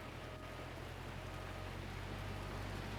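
Steady rain falls in Gold Mining Simulator, a dense, even hiss with a low constant hum beneath, continuous and unchanging throughout.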